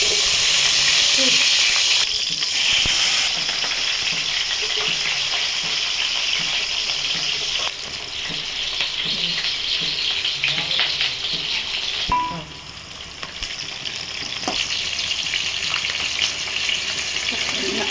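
Tempering spices crackle and fry in a hot kadai with a loud, continuous sizzle that eases slightly partway through and carries on steadily to the end.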